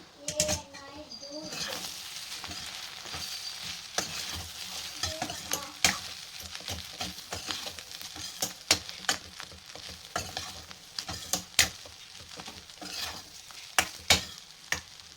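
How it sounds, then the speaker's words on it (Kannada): Egg rice frying in a pan, a continuous close sizzle overlaid with frequent scraping and tapping of a spatula against the metal, busier toward the end. "ಫ್ರೆಂಡ್, ಈಗ ಇದನ್ನು ನಾವು ಫ್ರೈ ಮಾಡೋಣ."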